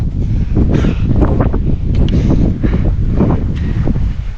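Strong wind on the trail of Mount Merbabu roars and buffets the microphone continuously, loud and close, with no break in the rushing gusts.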